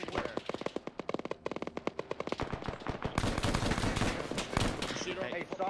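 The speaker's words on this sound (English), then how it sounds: "get the gun set up and start suppressing all of those enemy entrances" A machine gun lays down sustained suppressing fire in a military video game at an airfield, with rapid, loud bursts of shots hammering almost without pause, backed by denser firing later and voices speaking over it.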